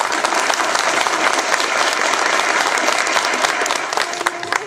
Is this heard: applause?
yes